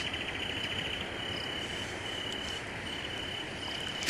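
Crickets chirp at night, a steady high pulsing trill held throughout, moderately loud against quiet background, with a brief rustling burst at the very end and no speech.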